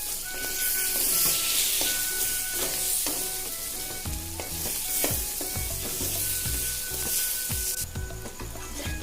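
Steady loud sizzling of pointed gourd frying in a pan, with repeated clinks and scrapes of a spatula stirring throughout.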